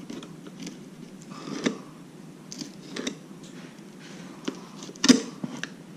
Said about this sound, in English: cut out the rib right here